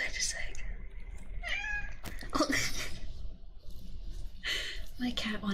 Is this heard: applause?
no